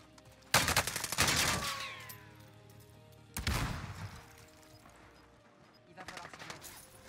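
Gunfire in a first-person shooter game, two loud, sharp bursts about three seconds apart, each with a rattling tail, followed later by a fainter shot; no talk inside the shots.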